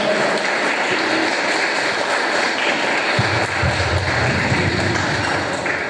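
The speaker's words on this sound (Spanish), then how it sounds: "Pónganse de pie todos, aplauso fuerte para esta nueva pareja" Wedding guests in Ameyaltepec stand and applaud the newly married couple, a continuous dense wash of many hands clapping for several seconds, fairly loud, with a low rumble entering partway through.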